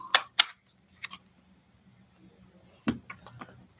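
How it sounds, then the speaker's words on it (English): A deck of tarot cards is shuffled with quick papery flicks and snaps, a few crisp bursts close by, then a pause and another cluster of taps, with no talk. "So let's give it one more shuffle."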